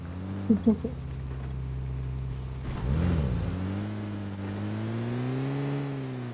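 A vehicle engine droning steadily in PUBG Mobile, rising briefly in pitch mid-way as it revs before settling back to a continuous mid-range hum, with a couple of short blips near the start.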